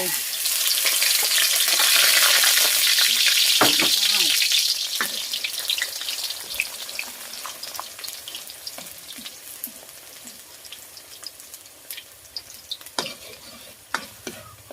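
Grated garlic drops into a hot pan for Lao-style stir-fried noodles, first a loud, close roaring sizzle, then quieter frying broken by spatula scrapes and knocks that thin out toward the end.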